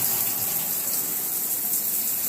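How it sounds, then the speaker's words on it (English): Tap water from a household supply running steadily, a loud continuous hiss and gush close by with no talking. "This is the water from your water source as it is coming through, your water supply."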